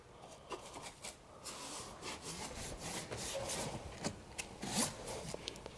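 A brush scrubbing an engine bay coated with cleaner, passing over metal, aluminum, rubber and plastic parts: quiet, close, scratchy back-and-forth bristle strokes in uneven bursts, with no speech.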